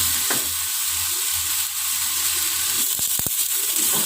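Spice paste frying in a pan until its moisture cooks off, a steady loud sizzle and hiss with a few sharp scraping stirs near the end, no talk.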